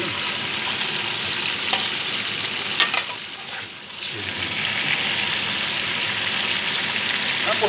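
Steady broadband sizzling of lamb searing in a hot pan, continuous and close, with a brief dip midway and faint movement sounds.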